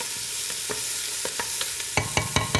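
Finely chopped onions fry in a hot pan, a soft steady sizzle broken by a series of sharp stirring scrapes and taps that grow more frequent toward the end.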